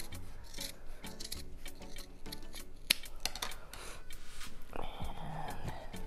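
Scissors snip through fabric being trimmed to cover a hat box: a quiet, close series of crisp, irregular cuts with light rustling in between.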